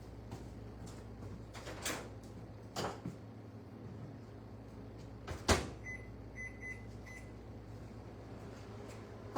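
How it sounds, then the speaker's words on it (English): A microwave oven heating a coconut pie hums low and steady, with several clicks and clunks of the door and buttons and a few short, high beeps partway through. "Now I'm going to put it in the microwave for 2 minutes."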